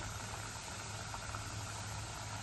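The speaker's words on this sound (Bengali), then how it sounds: "এটা একটু আঁচ কমিয়ে কমিয়ে ভাজবো, তাহলে ভেতরটাও ভাজা হবে।" Thekua, a Chhath festival sweet, frying in hot oil in a kadai over low heat, giving a steady, even hiss that holds throughout with no talk.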